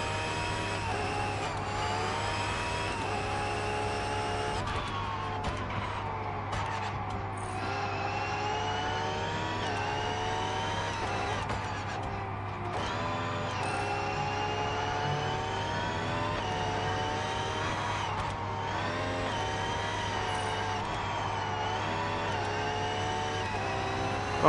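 A Ferrari engine in Test Drive Unlimited Solar Crown holds a loud, continuous drone for the whole stretch, its pitch rising and falling with throttle and gear changes, with no voices over it.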